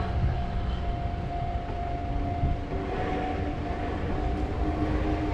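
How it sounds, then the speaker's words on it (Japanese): An Enoden train passes over the Kamakura-Kōkōmae No. 1 level crossing in Kamakura, giving a steady, moderately loud rolling rumble with a faint sustained crossing tone over outdoor ambience. "踏切を通過する江ノ電を見たので"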